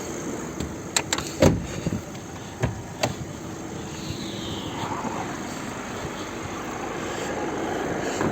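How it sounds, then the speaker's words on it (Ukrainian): A 2012 VW Touran Highline with a 2.0 TDI 140 hp diesel engine idles steadily with the bonnet open, a continuous close drone following a few sharp knocks and clicks at the start. "Двигун працює рівно."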